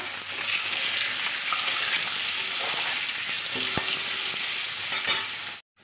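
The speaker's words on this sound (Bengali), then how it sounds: "একটু লাল করে ভেজে নেব।" Potatoes fry in hot oil with a loud, constant sizzle, a few faint clinks of a utensil, then the sound cuts off abruptly.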